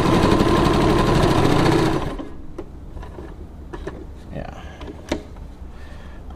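A Brother VX1500 sewing machine stitches at speed with a longer stitch, its thread prone to breaking. The motor and needle run loud and dense for about two seconds, then stop, leaving a quiet room with a voice talking and a few faint clicks.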